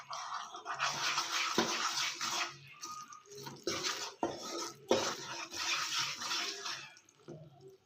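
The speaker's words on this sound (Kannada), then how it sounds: "ಇವಾಗ ಚೆನ್ನಾಗಿ ಮಿಕ್ಸ್ ಮಾಡ್ಕೊಳ್ಳೋಣ." A spoon or spatula stirs boiling jaggery syrup for groundnut chikki in a pan, with scraping, clinking strokes against the metal and bubbling, irregular and close, without talking.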